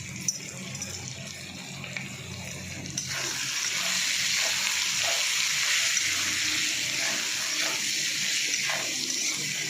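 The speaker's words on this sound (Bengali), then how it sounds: "মশলা আমি ভালো করে কষিয়ে নেবো।" Tomato, salt, chilli powder and turmeric powder fry in a pan with a steady, close sizzling hiss that grows louder after the first few seconds and continues without a break.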